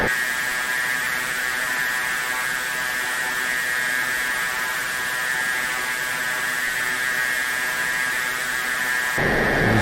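Missile lock warning tone in a video game jet cockpit, a continuous steady electronic buzzing tone held for several seconds before cutting off abruptly near the end.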